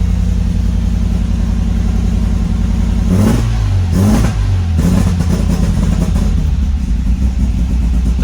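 An MGB GT pulled out of 20 years of garage storage runs close by with a lumpy, uneven idle. A few sharp revs rise and fall in the middle, then it settles back to a steady rumble.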